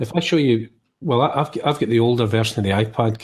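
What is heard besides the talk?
No everyday noise stands out behind the speech.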